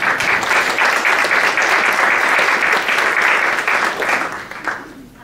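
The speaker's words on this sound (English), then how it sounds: "Let's give Suzanne a round of applause" Loud, dense applause for a speaker at a community discussion on education quality, sustained for several seconds before fading out at the end.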